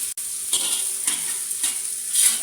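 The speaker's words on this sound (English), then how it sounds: "Don't have to fry it too much, just medium fry." Prawns fry in a hot pan for a masala, giving a steady close sizzle with soft stirring scrapes and a few brief louder bursts as the pieces are moved.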